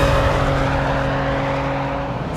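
A car at full throttle in fourth gear near 6,000 RPM on a track gives a loud, steady engine drone with sustained tonal whine and no pauses throughout.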